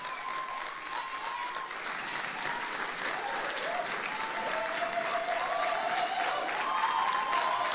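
Wedding guests clap for the couple in steady, continuous applause that swells slightly toward the end, with a faint tone and background voices running underneath.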